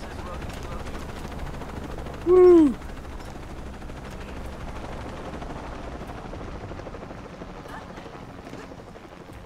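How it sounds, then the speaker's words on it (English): A helicopter in the video game Shadow of the Tomb Raider drones with a steady low rotor rumble through the whole stretch, and one voice gives a short excited shout partway in. "Helicopter."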